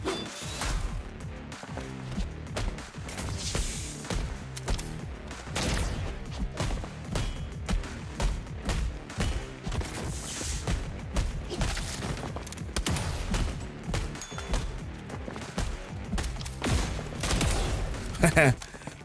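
Video game combat with rapid bursts of gunfire, bullets ricocheting back at enemies, crashes and whooshes, dense and loud throughout, with someone talking over parts of the action.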